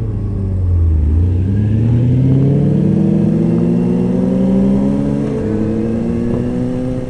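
An 800-horsepower drag race car engine revs up close, its loud throaty pitch sweeping upward and holding high before easing slightly, steady and continuous with no voices.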